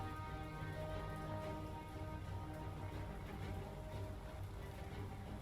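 Rain falls at sea in the naval game War on the Sea, a faint steady patter over a low hum of tonal engine-like drone, with no voices.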